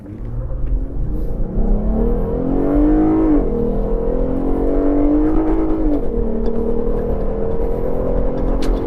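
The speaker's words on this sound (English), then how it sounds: "I'm going to test the acceleration with the Gladiator Willys." A 2022 Jeep Gladiator Willys with its V6 Pentastar engine accelerates hard, the loud close engine note climbing steadily through rising gear pulls with brief dips at shifts, steady road rumble underneath and no talking.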